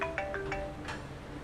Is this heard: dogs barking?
no